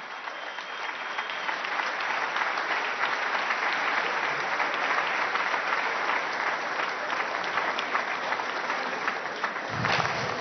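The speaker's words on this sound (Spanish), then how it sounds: "Un aplauso a esta juventud que pide justicia." Dense, continuous applause fills the hall of Venezuela's National Constituent Assembly, steady and broad from a large crowd, swelling slightly near the end.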